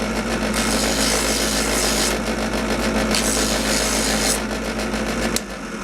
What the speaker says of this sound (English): this will be the equivalent of sanding with a block